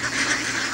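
Ducks on an organic rice paddy in Thailand give a brief, close burst of nasal quacking and honking, loud and alone, lasting under a second.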